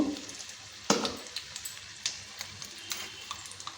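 Dry red chillies and a spoon of chana dal frying in hot oil, a soft sizzle with scattered small ticks and pops, one sharper clatter near the start, close and fairly quiet.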